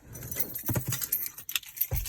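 Car keys for a 2014 Camaro SS jangle and clink in a few short metallic bursts, close by and moderately loud, with no talking.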